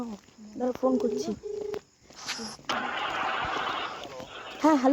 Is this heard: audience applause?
no